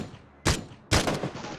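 Two close, loud bursts of gunfire in the battle-royale game PUBG, each a sharp crack with a short rattling tail, separated by a brief gap.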